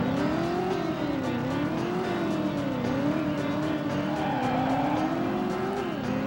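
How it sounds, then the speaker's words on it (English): Buick Skylark engine in the Driver video game, a steady revving drone with pitch rising and falling as the car accelerates and turns, plus faint tire squeal, alone without talk. "With that beautiful Buick Skylark."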